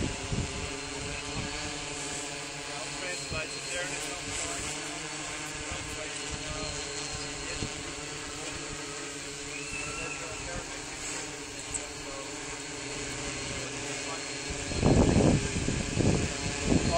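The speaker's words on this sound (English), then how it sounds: "it's now flying itself, holding position based on GPS location and altitude based on a pressure sensor" A UAV drone hovering in GPS position hold gives a steady, even rotor hum with faint tonal buzzing throughout at moderate distance, a voice talking over it and a louder rumbling burst near the end.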